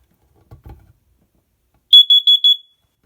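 A carbon monoxide alarm's test button sets off four sharp, loud electronic beeps in quick succession, following a brief soft handling sound.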